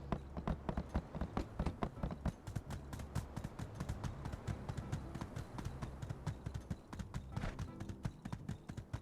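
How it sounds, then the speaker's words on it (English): Steady clip-clop of a rented horse's hooves trotting at a brisk, even rhythm in the video game My Time at Sandrock, close and clear, with no talking. "Not the fastest horse around, then again, it's only a rented one."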